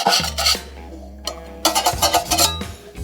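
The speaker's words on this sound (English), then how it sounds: "Go ahead and just take a quick outside scrape one more time." A drywall mudding tool scrapes around the outside of a nearly clean mud bucket in loud, close, rasping strokes, with a brief pause between bursts.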